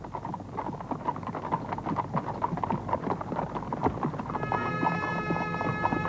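A grey horse's hooves clip-clop at a slow walk in a steady, close rhythm of crisp knocks. A faint ringing tone rises underneath toward the end.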